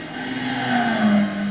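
Honda Civic VII Type R with its 2-litre 16-valve engine, driven in Gran Turismo 6, holds a steady, loud engine drone with a slight rise in pitch and faint tyre noise.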